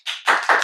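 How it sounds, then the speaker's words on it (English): A few sharp hand claps in quick succession, close and loud, with nothing else around them. "If you just clap once more, then I can loop it."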